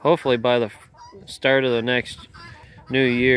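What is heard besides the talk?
No distinct noise like a dog, phone or traffic.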